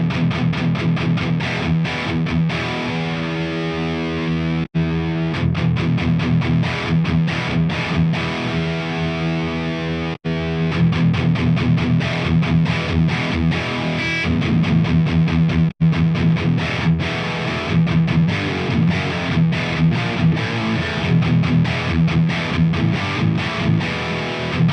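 An electric guitar played through a BOSS Waza Tube Amp Expander with the resonance control and EQ engaged gives loud, heavily distorted chugging riffs in tight rhythmic bursts, broken by a few brief pauses between phrases.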